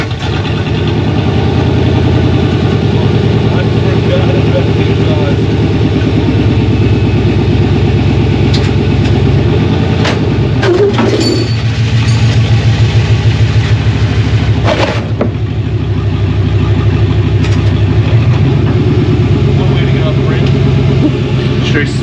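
A Chevy OBS truck engine runs loud and steady as the truck drives off a ramp with loose bolts, a deep continuous rumble with a few clunks and knocks midway.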